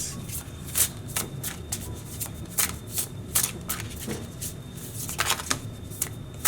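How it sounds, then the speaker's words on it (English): Tarot cards being shuffled by hand, giving repeated crisp riffling bursts in an uneven rhythm, close and fairly quiet, with no talk. "I'm going to wait for a few cards to slide out on their own to start."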